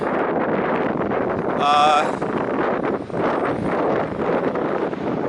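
Strong wind buffets the microphone in heavy, roaring gusts, with a brief high whistling tone cutting through partway.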